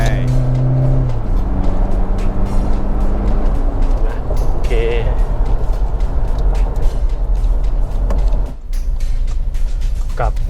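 A Toyota Fortuner 2020 2.4L with i-ART injection accelerates hard, its engine building into a loud, steady roar that dominates throughout, with voices heard alongside it.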